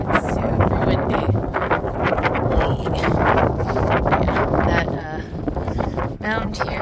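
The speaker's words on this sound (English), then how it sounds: "It's super windy." Strong wind roars and buffets across an open field, gusting steadily and loudly for the whole stretch with no break.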